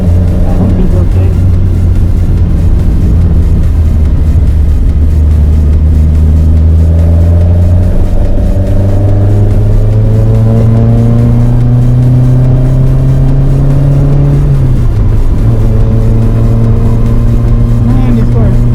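A '92 car driven hard around a race track on a track day, its engine roaring loud and close as it climbs steadily through the revs, drops briefly at a shift, then pulls hard again.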